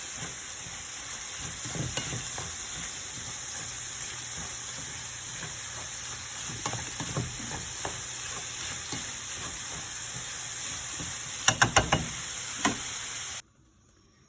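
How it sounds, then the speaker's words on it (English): Vegetables, including chopped tomato, sizzle steadily in a hot frying pan, a constant frying hiss with a few light knocks and stirring taps, then sudden silence at the end. "Into the frying pan."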